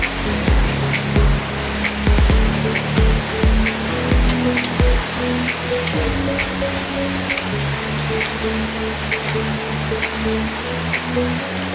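Steady rain falls heavily in Makassar, Indonesia, a dense continuous hiss with scattered sharper drips and patters throughout.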